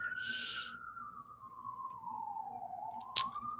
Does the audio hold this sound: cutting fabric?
no